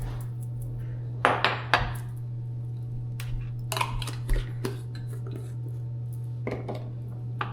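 Seasoned poke bowl ingredients stirred in a bowl, with irregular close clinks and scrapes of a utensil against the bowl over a steady low hum.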